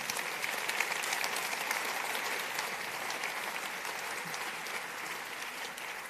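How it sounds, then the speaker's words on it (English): An audience at an award ceremony claps steadily for several seconds, a dense even wash of applause from a hall full of people that fades slightly toward the end, with no one speaking over it. "big applause for you already"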